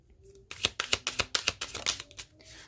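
Tarot cards being shuffled by hand, a close run of about a dozen crisp riffling flicks in quick rhythm, heard alone with no talk.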